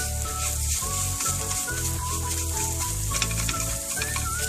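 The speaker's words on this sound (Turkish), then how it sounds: "Salçanın çiğ kokusu gidinceye kadar şöyle bir kavuralım tarhana ile bunları" Tarhana and tomato paste sizzle loudly in a pot for a cowpea tarhana soup, with a dense, continuous frying hiss and occasional scraping stirs and no talk.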